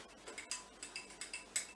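A teaspoon clinks against the inside of a breakfast cup while stirring savoury extract into hot water, a quick run of light, rhythmic taps about five times a second, close but quiet.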